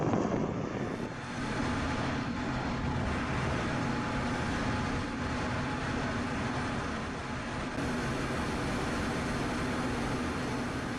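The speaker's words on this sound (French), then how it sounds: "exige des pilotes certifiés qu'ils effectuent une descente raide au-dessus d'une colline pour atterrir sur une piste courte près d'une plage" Airplane making a steep descent over a hill to land on a short runway beside a beach at Saint-Barthélemy airport, a steady loud engine roar holding throughout with no voices.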